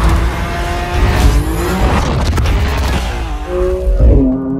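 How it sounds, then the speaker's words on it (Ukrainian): BMW 3 Series F30 accelerating hard, a loud sustained engine roar with rising and falling pitch through gear changes, close and continuous without talk. "І мені одразу хочеться попрацювати своєю правою ногою, тобто натиснути педаль акселератора, що є сила."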